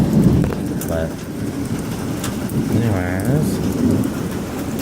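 Rain pours steadily outside during a hailstorm while low thunder rumbles beneath it, and someone talks over the storm noise.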